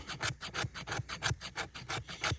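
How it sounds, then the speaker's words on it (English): A knife spine scrapes fatwood in steady, rhythmic rasping strokes, about a dozen quick passes, close and fairly quiet with no voices. "use the spine of the knife, like we're saying, and just scrape."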